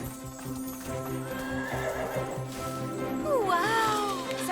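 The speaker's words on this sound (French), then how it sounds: "je crois que c'était un hennissement" A cartoon horse neighs in a long, wavering whinny over steady clip-clop hooves and background music, the call rising and falling near the end of the stretch.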